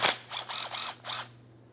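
Four quick bursts of a hand ratchet working 10mm bolts loose from the transmission pan of a 2004-2008 Pontiac Grand Prix 3.8L V6, close and crisp with short gaps between, no talking.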